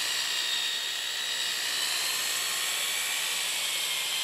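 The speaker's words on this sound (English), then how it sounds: "Done with the buffing wheel." A motorized buffing wheel polishes a Ludwig Vistalite drum shell with compound, giving a loud, steady, high-pitched whirring whine that runs unbroken throughout.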